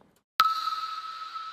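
A pluck sample from Sounds of Kashmir, played at its original pitch, starts with one crisp attack and then holds a bright, steady ringing tone, heard alone without talk.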